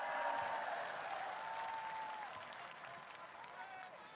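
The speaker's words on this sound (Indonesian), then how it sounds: "tepuk tangan dulu buat semuanya" Audience applause at a political party anniversary event (PSI's 9th anniversary), steady clapping from a large crowd for about four seconds, with faint voices and tonal whistles drifting above it, gradually easing off.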